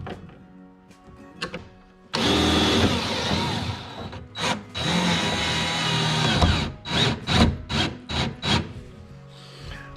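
A power drill driving screws into the side console of a 1648 jon boat under conversion, with long loud whirring runs and then a string of short bursts, separated by handling noise.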